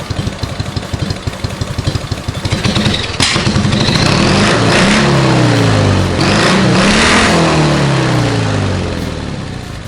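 An MT Dnipro motorcycle engine after carburetor tuning, loud and close, idling with a rapid rough thump before revving up hard in rising and falling surges of throttle.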